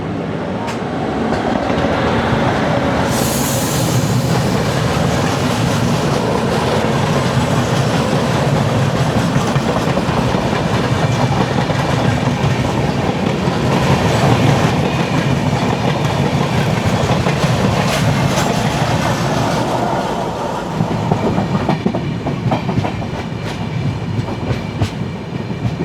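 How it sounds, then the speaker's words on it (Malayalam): Mandvi Express rolling along the main line through loop points, a steady loud rumble with wheel clickety-clack on the rails throughout, no talk, the rhythm breaking into sharper clacks near the end. "മാൻഡ്വി എക്സ്പ്രസ് കയറി വരുന്ന കാണാം."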